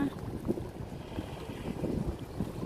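Wind blowing across a tugboat on the water, a steady low rumbling buffet pressing on the microphone with no clear pauses.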